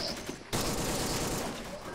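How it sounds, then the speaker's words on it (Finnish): Machine gun bursts in the WWII video game Arma 2 I44, a quiet moment and then a dense, sustained burst of rapid loud automatic fire. "Muuten nää äänet on ihan ok, mutta konekiväärit tekee sit niin kovan"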